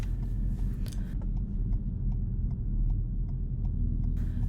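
A car climbing a steep hill in a lower gear than normal, its engine giving a steady low drone with a faint ticking texture, fairly close and continuous with no talk.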